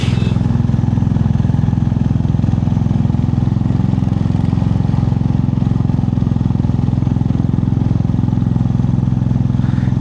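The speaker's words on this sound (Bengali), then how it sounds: "স্টিপ রাস্তা, যে সেকেন্ড গিয়ারে আছে তাতেই স্ট্রাগল হচ্ছে বাইকের" A motorcycle labouring in second gear up a steep mountain road in snowy East Sikkim near Zuluk, its engine a loud, steady low throbbing drone held close for the whole stretch.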